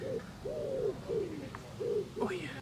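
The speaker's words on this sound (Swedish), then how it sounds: "Är här en duva?" Repeated soft cooing of a dove, several low rounded coos in an uneven rhythm, close and clear outdoors on a balcony, with a brief higher chirp near the end.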